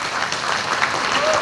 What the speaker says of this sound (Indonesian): Tepuk tangan untuk Bapak Ali Kurniawan